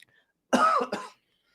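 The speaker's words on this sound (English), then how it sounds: "Let me cough." A single close, loud cough with a short second burst, heard alone against silence.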